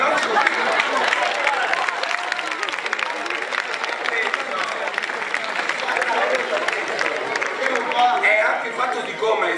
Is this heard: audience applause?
yes